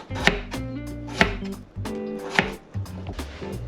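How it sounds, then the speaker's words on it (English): A knife chopping potatoes into bite-sized chunks on a wooden board, three sharp close thwacks roughly a second apart with pauses between. "2 potatoes. Cut them into small bite-sized chunks."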